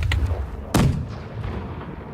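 Cannon fire aboard a pirate ship in the naval game Blackwake: one sharp booming shot, close and loud, followed by a rumbling decay over low ambient noise.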